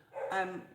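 A single short bark from a dog indoors, moderately loud and a little muffled, standing alone against near silence.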